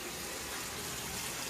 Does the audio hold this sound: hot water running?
yes